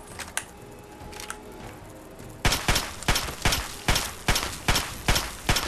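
An assault rifle firing in Fallout 3: after a quiet stretch with a couple of faint clicks, a run of about ten loud, sharp gunshots in a fairly steady, deliberate rhythm.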